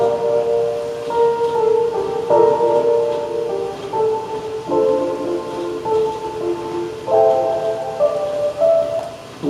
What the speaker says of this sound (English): I'm using the pop fading piano preset